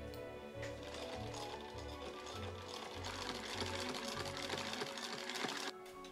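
Sewing machine stitching a skirt pocket to the waistband and side seam, a fast, steady mechanical whir and rapid needle chatter running continuously, close and fairly quiet, then stopping near the end.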